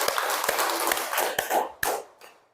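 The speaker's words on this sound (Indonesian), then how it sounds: "Tepuk tangan dulu" Students in a classroom lesson giving a round of hand claps, a handful of sharp, close claps at an irregular rhythm, thinning out and fading toward the end.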